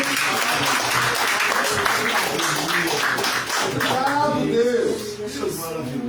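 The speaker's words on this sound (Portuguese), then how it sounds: "as palmas louvam ao Senhor" A church congregation applauds in praise to the Lord, a dense, sustained burst of many hands clapping, loud and close, with voices speaking and calling out over it toward the end.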